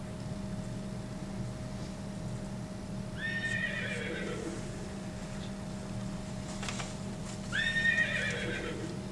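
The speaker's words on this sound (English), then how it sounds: "That's Shorty Horse." A horse at a mustang sanctuary whinnies twice, a few seconds apart, over a steady background hum; the calls are clear but not very loud.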